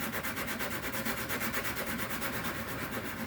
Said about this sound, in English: I'm going to hit the sanding block real quick, because it might be a little more even.